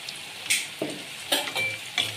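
Onions with turmeric sizzle in a pan, with a few distinct scraping stirs over a steady close frying hiss.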